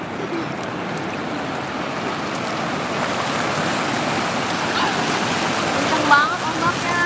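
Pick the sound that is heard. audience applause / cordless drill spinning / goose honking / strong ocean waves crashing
strong ocean waves crashing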